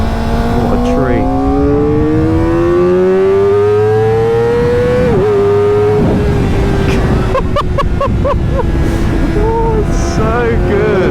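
A Kawasaki Ninja ZX4RR motorcycle rides on tight country roads, its high engine whine rising steadily through the revs, dipping at a gear change, then working through quick blips and shifts, loud and close throughout.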